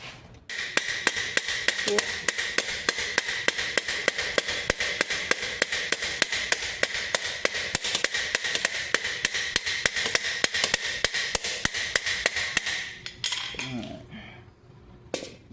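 Rivets hammered into a double steel layer of a Topfhelm helmet, a rapid, evenly spaced series of sharp metallic strikes, close and loud, ending with a few lighter knocks and handling sounds.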